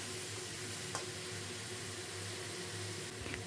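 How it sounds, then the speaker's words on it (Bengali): Spices sautéing in oil for a tilapia curry: a steady, close hiss of frying with a couple of faint clinks from stirring, unbroken and without talk. "এই মশলাটা ভালো করে সাঁতলে নিতে হবে।"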